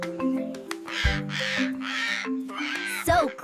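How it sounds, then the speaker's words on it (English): A parrot gives several loud, harsh, raspy squawks in quick succession, close and prominent over a soft background tone. "Parrot."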